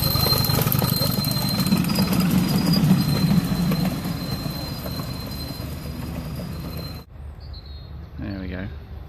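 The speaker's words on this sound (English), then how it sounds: "here with the steam train" A steam train rumbles past with a steady mechanical roar and a high whine, then cuts off abruptly to near quiet with a faint voice.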